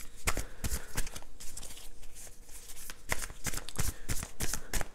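A tarot card is drawn from the deck and laid onto a spread, giving close, crisp card shuffles and slaps in quick repeated bursts with no talk.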